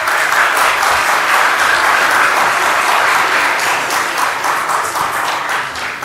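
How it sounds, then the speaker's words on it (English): A large crowd at a financial literacy expo closing event applauds loudly and continuously, a thick, uniform wash of claps that tapers off slightly at the end. "One more round of applause for some pretty special speakers for you today."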